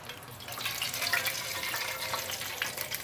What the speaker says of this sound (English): here I'm going to pour in a little bit of the juice